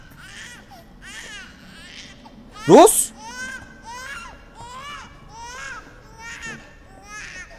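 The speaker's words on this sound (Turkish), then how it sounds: "Bebek sesi var lan" A baby cries in Resident Evil Village, high wavering wails repeating over several seconds at moderate distance, while someone talks over it and lets out one sharp loud exclamation.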